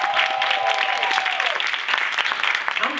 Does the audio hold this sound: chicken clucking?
no